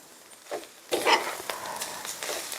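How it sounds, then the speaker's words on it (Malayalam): Garlic is stirred in a pan while curry leaves fry for a Kerala veppilakkatty. Soft scraping stir strokes start near the start, then a steady sizzle and gentle clatter follow, close up and fairly quiet. "ഇതിൽ നിന്ന് കൈ വിടാതെ തന്നെ ഇങ്ങനെ ഇളക്കണം എന്നാണ് പറഞ്ഞത്"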